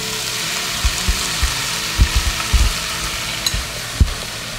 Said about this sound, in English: I'm going to go ahead and put it in my pan along with my onions.